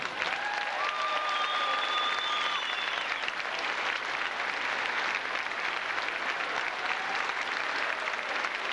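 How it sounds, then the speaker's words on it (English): Sustained, loud applause from the crowd at a 1997 high school boys' basketball game in Rock Island, Illinois, a dense wash of clapping that holds steady for the whole stretch. "Let's have a final round of applause for the outstanding athletes."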